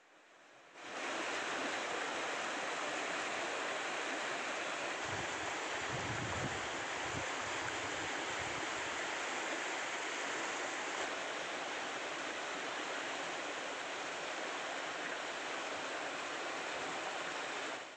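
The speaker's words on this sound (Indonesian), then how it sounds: "terjadi saat musim penghujan, yang menyebabkan Sungai Batang Gadis meluap" The swollen Batang Gadis river, flooding in the rainy season, rushes in a steady broad roar of turbulent water, constant and close after a brief quiet start, with a short low rumble in the middle.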